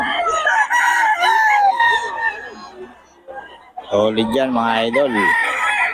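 Stag gamecocks crow at a rooster seller's stall in Bocaue. Several loud, drawn-out crows ring close by and overlap with clucking, while someone talks between them.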